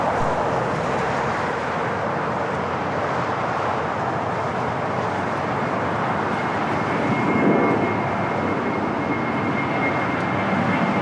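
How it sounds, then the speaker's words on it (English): A jet airliner going around at LAX roars past, its broad, loud engine rumble and hiss swelling slightly midway and continuing steadily with no talk. "Oh, we do have a go around."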